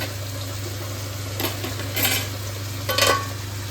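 Pointed gourd and prawns fry in a pan with a constant low sizzle, broken by three short bursts of scraping and clattering as a spatula stirs them against the metal.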